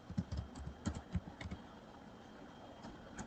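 Soft, quick keystrokes on a computer keyboard as commands are typed, with clusters of taps followed by a quieter pause, close but low in level and without talking.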